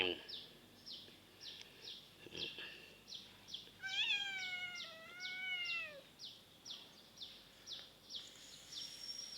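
A cat meows in a long, wavering call lasting about two seconds, set against steady outdoor ambience with repeated chirping clicks and birdlike tweets in a cool, rainy rural setting.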